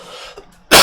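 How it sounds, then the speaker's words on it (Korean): A single sharp, loud cough bursts out close to the microphone at the end, following a short stretch of quiet room noise, from a lecturer with a sore throat. "중간에 기침도 들어가서 양해 좀 부탁드릴게요"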